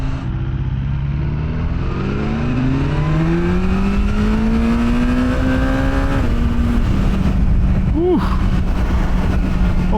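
A 2025 BMW S1000R naked motorcycle engine accelerating hard up to motorway speed on an open road, pulling through several rising gear sweeps with brief dips at the shifts. The sound is loud and close, with rushing wind noise underneath.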